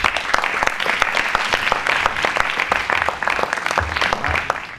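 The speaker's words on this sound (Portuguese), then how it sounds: "Um aplauso." An audience at an evening livestock-technology conference in Goiás, Brazil, applauds steadily for several seconds, a dense, even patter of many hands clapping with no talk over it.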